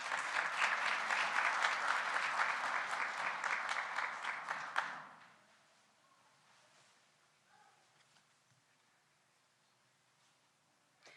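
Loud applause from a crowd at a nursing graduation hooding ceremony fills the first five seconds, then cuts off abruptly, leaving quiet room noise.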